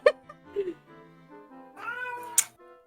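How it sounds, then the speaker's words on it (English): A house cat meows several times, drawn-out and fairly loud, nearby and with changing pitch, the calls running close together without pauses. "Cat."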